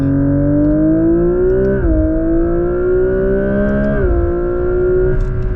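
A 2026 Genesis GV60 Magma electric car accelerates hard, its loud synthetic engine note climbing steadily, then dropping twice at simulated gear shifts before rising again.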